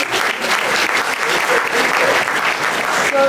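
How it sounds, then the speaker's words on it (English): Dense, steady applause from a seated audience honoring four panelists at a LimmudLA session, many hands clapping loudly and continuously throughout. "just give a quick round of applause for all four of the panelists"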